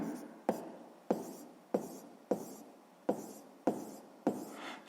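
Someone writes by hand while working a math exercise, the pen making short scratching strokes in a steady rhythm, about one every half second to second. The sound is soft, close and alone, with no talking.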